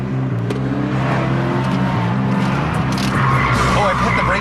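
A car performs a J-turn with the e-brake pulled, engine droning while tires skid and squeal louder toward the end, with speech over the noise.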